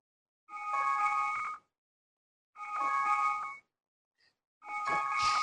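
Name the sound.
timer alarm bell ringing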